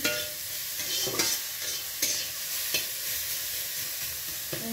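Sour okra chutney seasoned with salt cooks in a pan, giving a steady close sizzle broken by a few sharp spoon scrapes and clinks as it is stirred.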